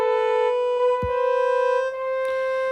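A French horn voice from an iPad orchestra app plays sustained, mellow brass notes, clear and alone with no talking, a few soft attacks marking note changes.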